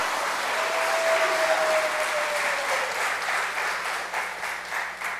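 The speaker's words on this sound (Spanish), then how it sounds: "Entonces dele un aplauso al Señor" A church congregation bursts into dense, sustained applause for several seconds at a sermon, a broad steady roar of clapping with a faint voice briefly rising over it before it tapers slightly.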